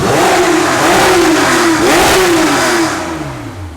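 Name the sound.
big block BMW engine revving quickly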